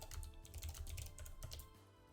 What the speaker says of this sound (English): I hope you like the clicky clacky keyboard.